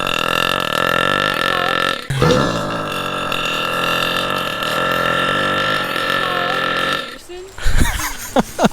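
A long, drawn-out, loud burp made on a hike, with a brief break partway through, then ending in a short laugh and some voice.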